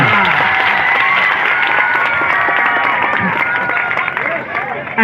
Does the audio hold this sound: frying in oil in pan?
no